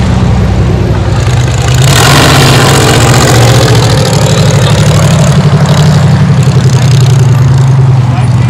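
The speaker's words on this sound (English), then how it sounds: "While we wait for the truck to go by." A heavy truck engine rumbles loudly close by outside Mooneyes, its deep drone swelling and lingering as it passes, with voices faintly underneath.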